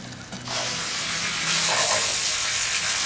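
Peeled plum tomatoes hit a hot pan for an Italian pizzaiola sauce, setting off a loud, steady, close sizzle that swells after a brief quieter start and holds strong throughout.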